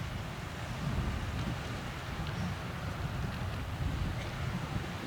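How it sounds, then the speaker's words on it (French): Strong gusting wind above 120 km/h rushes steadily near a coast where huge waves are crashing, a dense low roar with rolling surges and no voices. "Les vents soufflent à plus de 120 km/h."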